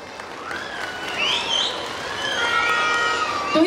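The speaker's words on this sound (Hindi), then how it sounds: "लेडीज के लिए तालियां बजा दें।" Scattered clapping from a crowd grows steadily, with a few whistles and cheers rising above it near the end.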